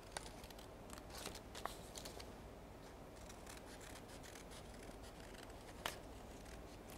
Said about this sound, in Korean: 오늘 가위질을 좀 많이 하죠.